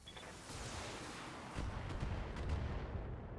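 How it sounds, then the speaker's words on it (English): A BattleTech mech unloads a full weapons salvo: a dense wash of cannon and missile fire that thickens midway into heavier, rumbling impacts and sustained barrage noise, moderately loud with no speech. "Firing a full salvo."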